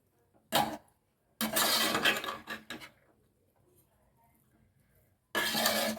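A spoon scrapes and clatters around a pot of mint rice in short bursts, close by, separated by quiet pauses.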